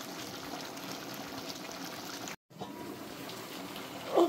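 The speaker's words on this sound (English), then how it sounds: "We add water and pour our cassava leaf." Water pours steadily into a cooking pot of cassava leaves with a continuous close splashing stream, briefly cut off midway before resuming.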